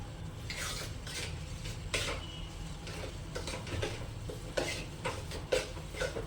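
A spoon scrapes and clinks against a pan while sukhdi mixture is stirred, soft continuous scraping with occasional light knocks, close by over a low steady background hum.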